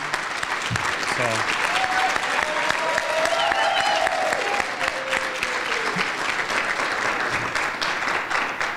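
An audience at a chamber of commerce awards event claps steadily for three event organisers, a dense sustained round of applause filling the whole stretch at even loudness.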